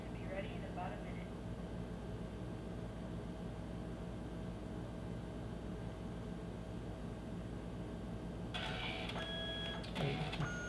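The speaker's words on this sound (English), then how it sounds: "Now it's starting to print." A photo booth printer runs steadily while printing a photo, giving a continuous mechanical hum and whir. Sharper rattling and clicking feed noises start near the end.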